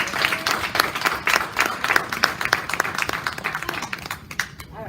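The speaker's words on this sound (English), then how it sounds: "please a warm, warm, warm round of applause for the Jaymie" An audience at an NYU summit keynote gives a warm round of applause for speaker Jaymie Bowles, many hands clapping in a full, rippling stream that thins out toward the end.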